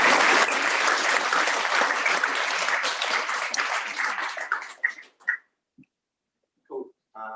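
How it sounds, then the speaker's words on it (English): An audience at a piping competition gives a loud, dense round of applause that thins out into a few scattered claps and stray noises, then stops. "So massive round of applause."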